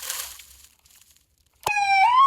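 A toy ambulance siren starts abruptly after a short click and near-silence, giving a bright electronic wail that sweeps in pitch, close and clear.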